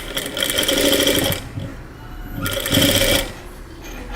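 A sewing machine stitches piping through double-layered cloth in two close, buzzing runs of about a second each, with a brief lull between them.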